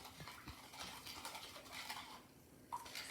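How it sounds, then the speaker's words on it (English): A spoon stirs sugar into cold water for hummingbird nectar, faint scraping and clinking against a measuring cup in quick irregular strokes, with a small tap near the end, no talking. "And now I'm going to mix that around."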